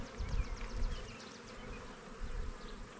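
Honeybees buzz around a backyard hive, a dense droning hum with individual bees zipping past close to the ear, steady and moderately loud, with no talk.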